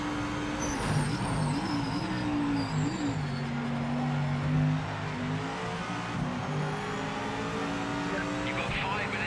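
Simulated Mercedes AMG GT3 race car engine in the Project Motor Racing game, a steady droning tone with slight pitch wobbles under continuous voice chatter.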